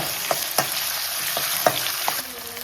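Potatoes and curry leaves frying in hot oil in a pan give a steady, close sizzle, broken by several sharp clicks and scrapes of a stirring spoon.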